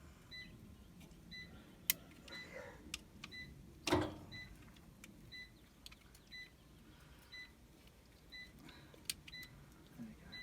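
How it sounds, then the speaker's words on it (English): An off-grid solar inverter showing error 4 sounds its alarm as repeated short, faint beeps in a steady pattern, with scattered clicks and a louder knock in the background and no talking. "inverter is beeping with this error 4 again"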